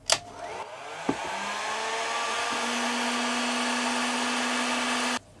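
A heat gun clicks on and spins up into a steady blowing whir while shrinking heat shrink tubing onto a cable lug, preceded by a few handling knocks and ending abruptly when switched off.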